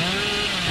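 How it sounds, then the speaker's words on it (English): A chainsaw revs steadily and loudly in the horror game Dead by Daylight, a continuous buzzing drone that holds for the whole short moment without any talk over it. "the chainsaw is not the thing to use here"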